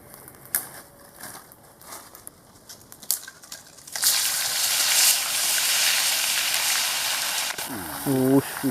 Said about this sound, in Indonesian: Kita goreng dulu, baru nanti kita campur dengan sambelnya.